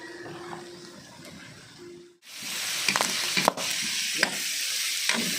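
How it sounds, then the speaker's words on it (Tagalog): Vegetables, starting with squash, hit hot oil in a pan for a Filipino ginisang gulay: after a quiet moment a loud, close sizzle bursts in and holds steady, dotted with stirring scrapes and small pops, no talk. "Lagyan na natin ng kaunting mantika yan at tayo ay magigisa na."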